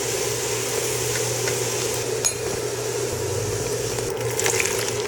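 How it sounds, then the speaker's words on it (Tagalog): Carrots, potatoes and hotdogs frying in hot oil in a home kitchen, giving a steady close crackling sizzle with a few light clinks of utensils against the pan, no voices. "ipiprito ko muna itong carrots, patatas at hotdog"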